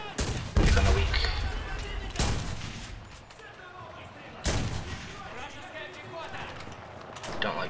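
Rifle gunfire in a video game: three loud, heavy reports spaced a couple of seconds apart, each with a booming echo tail, while a person talks in between.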